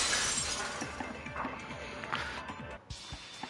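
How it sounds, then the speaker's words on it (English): Glass shatters in a vase-breaking effect from the video game Danganronpa 2, a loud crash followed by a scatter of tinkling fragments that fade out, with a short cut near the end. "If it wasn't the window, then what broke to make that sound? A vase."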